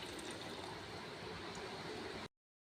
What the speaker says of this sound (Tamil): பாலை ஊற்றிக்கலாம்,